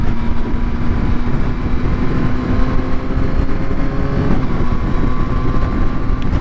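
A Yamaha Tracer 9 GT being ridden, its engine a loud continuous hum with wind roar, pitch lines climbing then dropping briefly as gears change through the quick shifter, no one speaking.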